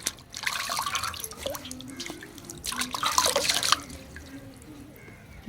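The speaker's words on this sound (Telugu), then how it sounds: "ఇలాగా ప్రతి ఒక్క గడ్డ నీట్గా కడగాలి." Wild forest tubers being scrubbed clean of soil under running water, with splashing and dripping from a tap or sink in bursts, louder around the middle, close by and with no talk.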